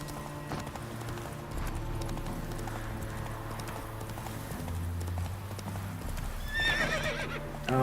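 Hooves of the horse clip-clopping in The Witcher 3, a steady, moderately quiet galloping rhythm under game music, with a whinny near the end.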